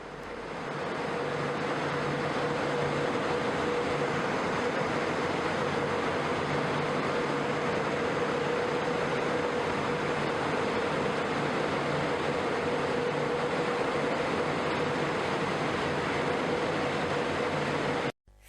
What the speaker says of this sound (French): il existe aussi de très gros ventilateurs qui permettent de fabriquer du vent